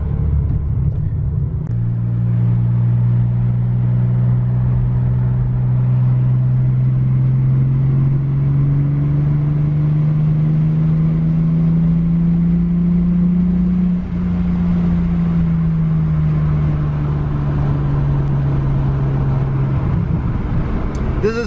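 A Toyota Supra pulls away from a car meet with a steady, loud engine drone heard from inside, its low tone rising slowly and then falling as it accelerates and eases off, with road rumble underneath.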